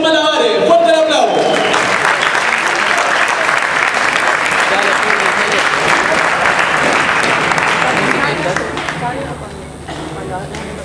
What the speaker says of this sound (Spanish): Recibamos con un fuerte, pero fuerte aplauso a Chocolate y sus Malabares.